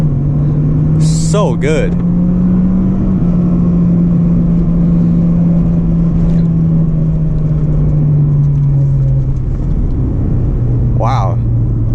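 An Acura RSX Base engine pulls hard through first gear into VTEC, a loud steady drone heard from inside the car whose pitch climbs slightly and then eases, with voices exclaiming over it.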